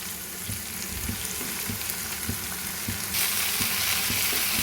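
Washed, chopped gongura (sorrel) leaves fry in a pan with a constant loud sizzle and periodic soft stirring scrapes, the frying hiss brightening toward the end.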